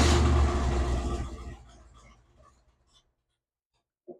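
A 1983 Chevrolet C10 pickup engine turns over and fires, a loud rough burst that settles into a fading idle for a couple of seconds, then near silence before a brief voice at the end.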